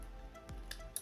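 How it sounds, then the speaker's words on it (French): A pair of scissors closes on ribbon in a short scrapbooking session, giving two quick, soft snips close by in a quiet room. "Je vais couper mon ruban"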